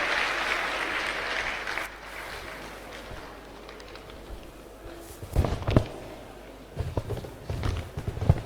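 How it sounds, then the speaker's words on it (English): Audience applause at a university convocation lecture in Jos, a moderate clapping wash that fades midway, then scattered louder bursts of claps and knocks return toward the end. "A round of applause, ladies and gentlemen."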